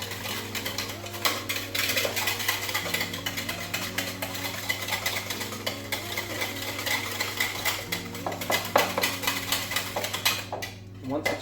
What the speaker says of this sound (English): I'm going to whisk that up to incorporate everything.